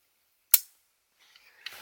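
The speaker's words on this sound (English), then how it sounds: "And you do get the firing missile." A Transformers Galvatron toy's arm cannon fires its spring-loaded missile with a single sharp snapping crack, followed by faint light rattling and clatter as the projectile lands nearby.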